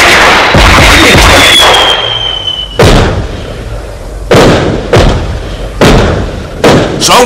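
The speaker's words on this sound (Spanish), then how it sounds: "¿Son fuegos artificiales?" Fireworks or bomb blasts in a cartoon: a whistling hiss gives way to a string of five sharp, loud bangs spaced roughly a second apart, each with a short decaying rumble.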